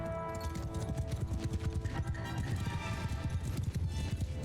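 Cavalry horses gallop in Mount & Blade II: Bannerlord, a dense, continuous clatter of many hooves pounding fast and loud over a steady battle din, with no talk.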